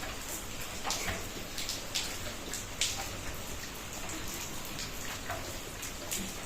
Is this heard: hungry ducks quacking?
no